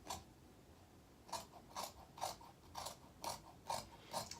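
Scissors snip through fabric seam allowances around the face opening of a hooded neck pillow, making a faint, evenly spaced run of about eight crisp cutting clicks in a quiet room.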